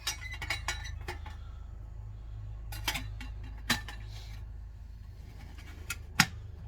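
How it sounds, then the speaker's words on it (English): A vintage Farberware Model 142 automatic percolator coffee maker starts to perk, with scattered sharp clinks and taps of metal and glass over a low steady hum, some clusters of quick ticks and a louder clink near the end. "All right, it's just starting to perk."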